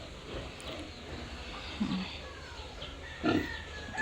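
Low grunts from a sow and her piglets in a farm pen, two short snorting calls rising above a quiet, steady background, fairly close.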